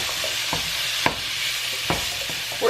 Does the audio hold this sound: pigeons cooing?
no